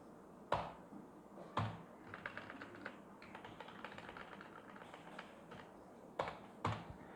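A name is typed on a computer keyboard, a close run of quick light key taps framed by a few louder single key strikes near the start and end, quiet, with no talking.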